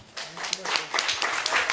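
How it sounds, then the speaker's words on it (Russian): Scattered claps from a small group at a joint press conference held by FC Anzhi and MegaFon, several sharp hand claps close by in a short uneven burst. "Аплодисменты."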